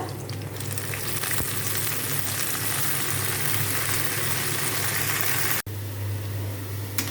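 Radish greens frying in a pan, giving a loud, steady, dense sizzle close up with no talk, cut by a brief dropout near the end before the hiss resumes.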